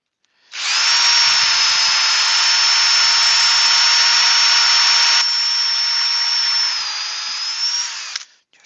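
A power drill whines steadily at high pitch for about eight seconds as it bores into solid timber, loud and close, starting and stopping abruptly.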